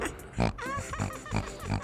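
A pig grunting and oinking in a Philippine rural setting, several short rough grunts in quick succession, close and fairly loud, with no speech over them.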